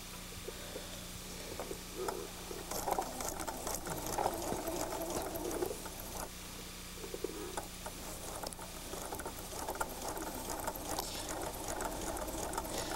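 Sewing machine stitching quilt fabric pieces together with a scant quarter-inch seam for a log cabin block, a close, steady rapid mechanical chatter that runs throughout with slight changes in pace and no talking.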